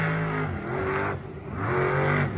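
A Monster Jam monster truck at a Salt Lake City arena show, its engine running loud and close, rising and falling in sustained revving surges with a brief dip in the middle.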